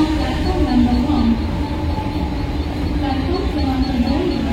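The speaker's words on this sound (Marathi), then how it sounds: "डोंबिवली जाने वाली ही लोकल थोड़ी ही समय में प्लेटफॉर्म क्रमांक 1 पर आ रही है" A Mumbai local train heading for Dombivli pulls into platform 1 at night, a loud steady rumble and hum of rolling cars with a wavering tone, heard alongside a station announcement.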